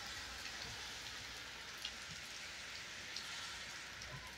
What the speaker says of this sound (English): Just a wind and rain event.